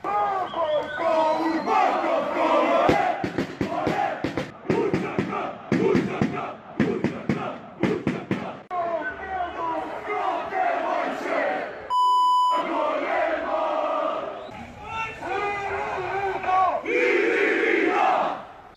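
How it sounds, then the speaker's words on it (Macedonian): Shkendija football fans chanting in loud, rhythmic unison, a large crowd roaring with clapping accents, briefly cut by a high electronic beep before the chanting resumes. "Имаше скандирање за учека или рида."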